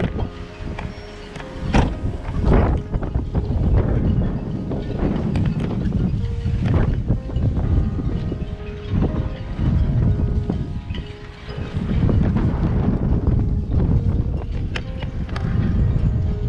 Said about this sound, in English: It might be windy, so bear with me.